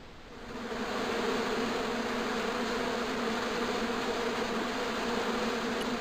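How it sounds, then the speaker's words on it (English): Angry hornets swarming in a bush on an island in the video game Broken Sword 2: a steady, droning buzz that swells up in the first second and then holds loud and constant, with no voices. "There was a hornet's nest somewhere in that bush."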